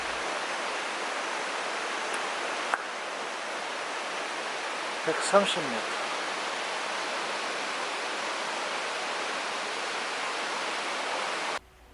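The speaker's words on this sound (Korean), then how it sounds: "시원한 물소리가 온 산을 울린다" Water roars over a tall waterfall in a mountain setting in Japan, a dense, even broadband rush that continues steadily without a break, with a couple of faint brief clicks partway through.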